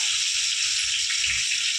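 Chopped onion dropped into hot garlic-infused oil gives a bright, steady sizzle up close, with faint low thumps from the pan beneath and no voices.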